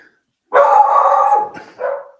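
A dog named Ziggy lets out a drawn-out bark that slides into a howl-like whine, followed by a shorter second bark, close and loud against otherwise quiet surroundings.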